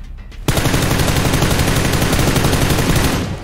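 Sustained rapid automatic gunfire in PUBG Lite, a dense unbroken burst that starts abruptly after a brief quiet moment and runs loud and close to the end.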